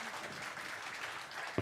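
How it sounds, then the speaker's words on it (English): Audience applause during a live-streamed Mercy Ships medical panel, a soft, even wash of clapping that sounds somewhat distant and holds steady throughout. "give Mercy Ships a good round of applause"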